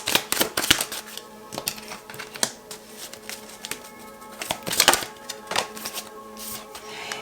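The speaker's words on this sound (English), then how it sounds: "let me just pull out some more cards for you" Tarot cards are pulled and shuffled, giving quick, papery riffles and flicks in irregular bursts, close and fairly soft, with a few louder snaps of cards hitting each other.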